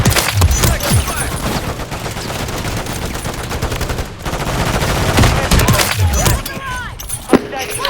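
Dense gunfire rattles through a Call of Duty Modern Warfare III match, with loud overlapping automatic bursts and single shots in rapid succession, mixed with game voices.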